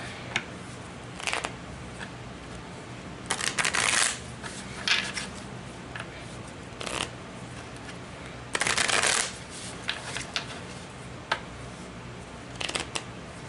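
Repeated bursts of tarot card shuffling, close and crisp, riffling in irregular clusters with quiet pauses between, over a faint steady background hum.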